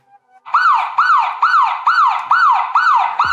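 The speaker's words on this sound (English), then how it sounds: "This is what happens when somebody tries to brute force your lock." A Xiaomi Aqara N200 smart lock sounds its tamper alarm after a brute-force attempt, a loud, close electronic siren that sweeps in a fast repeating whoop about seven times, clear and alone with no talking.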